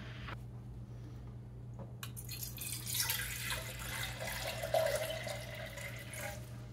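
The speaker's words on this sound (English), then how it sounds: "with the Blix, we're gonna add 18 ounces of water to the beaker" Water poured into a beaker while mixing Blix for home C-41 colour film developing, a steady close pour and splash over a constant low hum with no talk.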